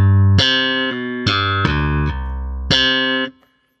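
Sampled roundwound bass guitar plays a few plucked notes with a deep tone, clear string attacks and sustained ringing, loud and close, alone, with simulated irregular playback noise.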